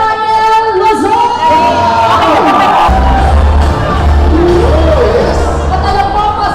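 A large crowd at an outdoor church anniversary rally in Luneta Rizal Park, Manila, cheers, whoops and shouts in a loud, sustained roar. An amplified voice talks over the top.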